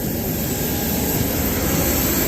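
Private jet engine roaring steadily at an airport, a loud continuous broadband rumble and whine that fills the whole clip with no talking.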